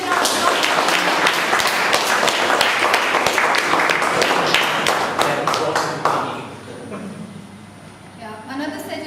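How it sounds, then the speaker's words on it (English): An audience at a meeting gives a round of applause, dense clapping for about six seconds that fades out, followed by quieter room sound and a voice. "Please give a big round of applause."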